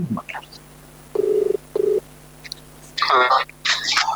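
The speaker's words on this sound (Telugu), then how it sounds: "ఒకసారి చూద్దాం, కాల్ ట్రై చేసి." A telephone call being placed, with short electronic dialing tones and a tone pattern from the phone line, close and clear, alongside bits of speech.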